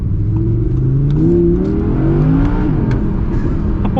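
Audi R8 V10 supercar accelerating hard from inside the cabin, the engine note climbing through rising revs with a shift partway, loud and continuous with no talk.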